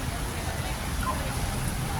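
Heavy rain falling steadily at a park, a dense, even hiss of drops on surfaces filling the whole short stretch, with a voice faintly present underneath.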